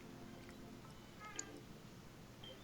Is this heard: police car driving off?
no